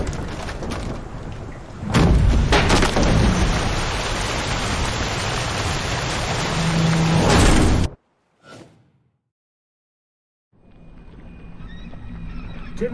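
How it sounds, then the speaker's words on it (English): A storm with heavy rain and thunder makes a loud, steady roar for several seconds, then cuts off abruptly, followed by a short burst and silence before a quieter rumble of rain returns. "Didn't bargain for no storm."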